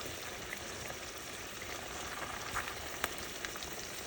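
Large pieces of oxtail browning in a hot pan, a steady close crackling sizzle with a few sharper pops, continuous and alone.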